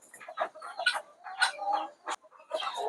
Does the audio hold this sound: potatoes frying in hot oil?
no